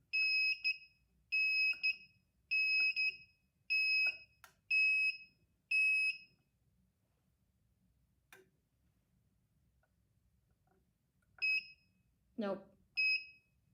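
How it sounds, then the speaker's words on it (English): A portable tumbler press timer beeps in a run of six evenly spaced short double-tone bursts, pauses, then beeps three more times as a brief spoken word breaks in. "I don't want to listen to the beeping the whole time"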